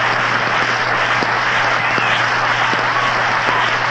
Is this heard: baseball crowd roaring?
yes